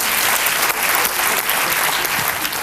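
A TV studio audience at a 2008 Turkish political talk show breaks into steady, sustained applause: a dense wash of many hands clapping at once, loud and continuous throughout.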